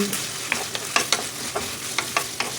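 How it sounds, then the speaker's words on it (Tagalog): Small pieces of pork frying in a pan, a constant sizzle with a few quick stirring clacks spaced through it, nearby and fairly loud, with no voices. "Una, tinusta ko na yung pork na hiniwa ko ng maliliit"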